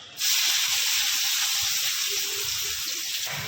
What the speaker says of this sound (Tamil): இப்போ வெங்காயம் போட்டு கொஞ்சம் நல்லா அப்படியே வதக்கி விட்டுக்கோங்க